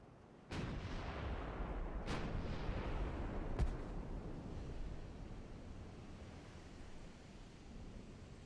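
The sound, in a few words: battleship gunfire hitting target in naval video game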